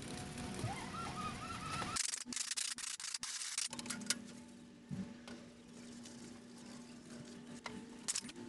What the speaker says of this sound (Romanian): curățăm foarte bine blocul motor în zona garniturii de cupru